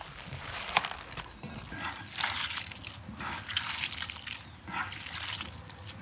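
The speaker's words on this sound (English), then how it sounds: "Lily mashes the sulguni cheese until all the whey has been strained from the mass" Sulguni cheese mashed by hand as whey strains out, giving soft wet squelches and trickling liquid in repeated bursts, close and moderately quiet, with no talk.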